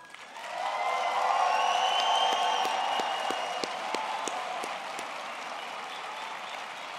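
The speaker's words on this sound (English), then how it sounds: "Now let's allow the graduates to respond with their own round of applause." Graduates applaud at an engineering, built environment and IT graduation ceremony: a broad, steady wash of many hands clapping that swells in after a quiet start, with a few sharper individual claps standing out, then eases slightly toward the end.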